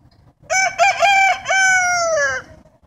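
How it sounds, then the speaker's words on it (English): A rooster crows loudly and close by, one long drawn-out cock-a-doodle-doo standing alone against faint background noise. "Once the rooster crows"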